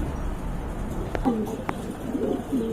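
A pair of big giant homer pigeons coo softly in short, low, throaty phrases, several calls close by over a faint room hum.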